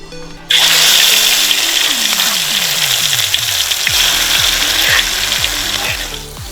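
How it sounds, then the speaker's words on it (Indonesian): Ground spice paste for Gunungkidul sayur brongkos hits hot oil with a sudden loud sizzle, then hisses and crackles steadily and close for several seconds, easing slightly toward the end. "Pastikan minyak sudah panas, lalu tumis bumbu yang sudah dihaluskan"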